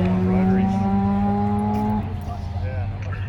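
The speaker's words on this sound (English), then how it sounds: "Another HQ coming up, but this one is Brad Ossington." A Holden HQ race car at a V8 sprint event passes with a sustained, droning engine note that drops in pitch as it goes by, loud and fairly close, with a commentator talking over it.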